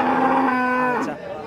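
A cow at a busy cattle market during the Qurbani buying season gives one loud, close, drawn-out moo lasting about a second, with no talk over it.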